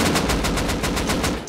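Rapid gunfire in the video game Rust, a loud, close burst of about nine evenly spaced shots fired in quick succession, with no talking over it.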